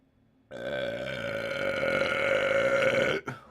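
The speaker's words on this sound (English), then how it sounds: "Burp 7." One long, loud, deep burp that stretches for almost three seconds, then cuts off abruptly, with nothing else heard.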